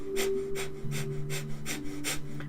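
Six sharp, rhythmic exhalations from Breath of Fire yoga breathing puff out in quick succession, close-miked and evenly spaced, over a faint low hum.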